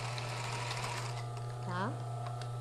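Sewing machine backstitching a seam on a robe, a short burst of fast, even stitching clatter, close and fairly quiet over a steady low motor hum, with someone speaking over it.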